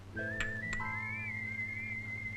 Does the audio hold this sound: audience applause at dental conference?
no